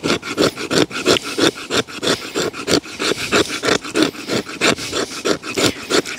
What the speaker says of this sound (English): I'll start with just a little bit of fuzz off of this piece of wood.